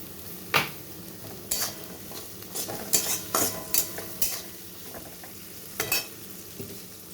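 Green peas are stir-fried with cooked vegetables and chopped green chilli in a wok for fried rice, a low sizzle punctuated by repeated sharp spatula scrapes and clinks against the pan, no voices.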